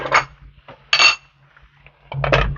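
A metal lid clanks down onto a pan of shrimp and egg, a few sharp clinks and knocks close by with quiet gaps between them.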